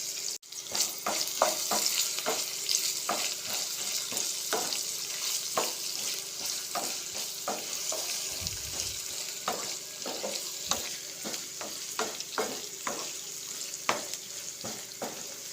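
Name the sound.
soaked raw chana dal frying in oil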